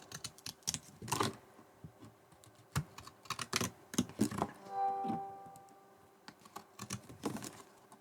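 Scissors cutting around a piece of paper card, heard up close as a series of crisp, uneven snips and clicks in irregular bursts with short pauses between them.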